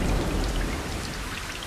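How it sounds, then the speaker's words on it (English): Heavy monsoon rain pours down over Ranthambore in a dense, steady roar, loud and close, with no voices. "With the downpour comes upheaval."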